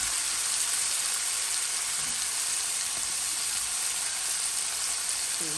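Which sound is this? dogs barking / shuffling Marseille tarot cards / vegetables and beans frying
vegetables and beans frying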